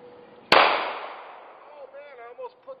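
One sharp, loud shot from a Ruger SR9 pistol at a shooting range cracks out and rings off, followed by someone talking briefly.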